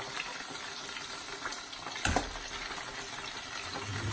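Onion fries in a pan with a soft, low crackling sizzle, punctuated by a brief clatter near the middle, heard close but fairly quiet.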